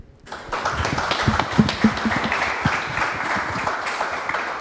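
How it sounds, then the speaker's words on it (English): Audience at a panel event applauding the jury, a dense steady roar of many clapping hands that starts abruptly and carries on evenly, with a few voices faintly audible beneath. "Let's have a big round of applause for the jury."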